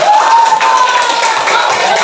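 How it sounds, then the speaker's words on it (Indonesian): A classroom group breaks into loud, continuous clapping and cheering, with a few voices mixed in, sustained evenly for about two seconds. "Beri tepuk tangan untuk kita semua."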